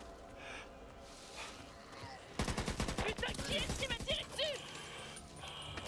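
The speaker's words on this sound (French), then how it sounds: "Mitrailleuse légère." A light machine gun fires in the video game Back 4 Blood, a fast, loud burst of rapid shots starting midway and running for a couple of seconds, with brief vocal sounds mixed in.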